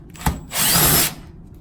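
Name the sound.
power drill removing screws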